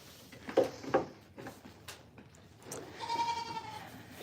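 Goats bleat on a farm, a couple of short, close bleats followed by a longer, wavering cry, with quiet background noise in between.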